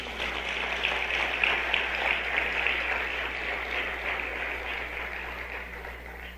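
A church congregation claps together in a sustained, even wash of applause, moderately loud and steady from start to finish with no voices standing out.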